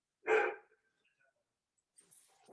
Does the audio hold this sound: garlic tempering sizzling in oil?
no